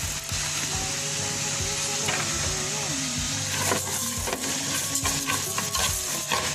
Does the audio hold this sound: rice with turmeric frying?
yes